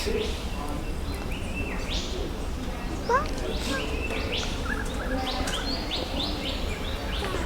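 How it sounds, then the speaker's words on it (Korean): Several birds chirp and call in quick, scattered bursts over a steady outdoor background hum in an Australian park, moderately near, with a faint voice at times. "여러분들에게도 새소리가 잘 들렸으면 좋겠습니다"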